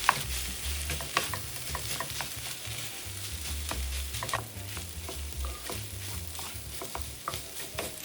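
Rice stir-frying in a hot pan for a Korean one-pan meal, with steady sizzling and repeated scraping, tapping strokes of a utensil against the pan, close and moderately quiet, with no talking.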